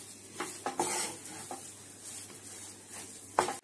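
Moong dal roasts in ghee in a pan while a spoon stirs it, making soft scraping strokes and a few sharper knocks against the metal over a faint sizzle.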